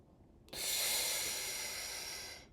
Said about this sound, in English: Deep, heavy breath.